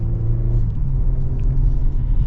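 A 2025 Kia Telluride SX with a naturally aspirated V6 and 8-speed cruises along, heard from inside as a steady low engine and road rumble, loud and even, with no talking.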